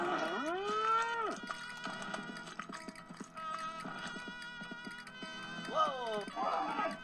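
A cartoonish cow moos in the video game Conker's Bad Fur Day, two drawn-out rising moos at the start and near the end over busy game music and clatter.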